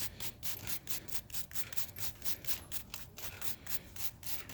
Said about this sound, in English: you can use just a soft bristle brush or something like that and try and go through it